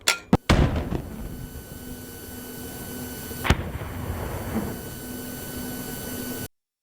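A Carl Gustaf recoilless rifle fires outdoors, giving a sharp, very loud double blast right at the start, then a lingering rumble and a second distant crack partway through.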